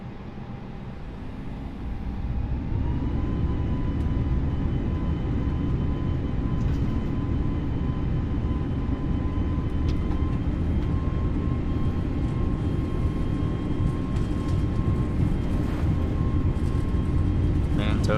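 An airliner in a flight simulator game accelerates for takeoff from Montreal, its steady engine roar climbing within the first few seconds and then holding loud and constant, with faint tonal whines above the rumble.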